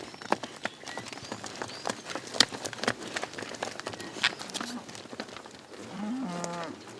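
Dairy cattle moo in the distance amid a busy farmyard by the barn, with scattered clattering and knocks, then a closer, drawn-out low moo near the end.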